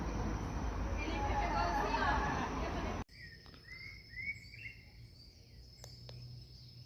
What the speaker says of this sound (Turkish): Sabah erken kalktım böyle kuş sesleriyle.